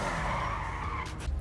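Tire squeal from a Sentinel XS4, an E39 M5-styled car, spinning out in a video game, a loud sustained skid over engine noise that breaks up toward the end.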